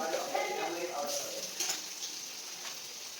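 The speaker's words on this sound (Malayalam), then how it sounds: "ഞാൻ മീൻ പൊരിക്കാനുള്ളതൊന്ന് ചട്ടിയിലേക്ക് ഇട്ട് കൊടുക്കുകയാണ്" Fish frying in hot oil in a pan gives a soft, steady sizzling hiss throughout, fairly quiet and close, with no other sound standing out.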